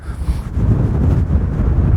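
Strong coastal wind buffets the microphone in loud, low rumbling gusts, continuous and close.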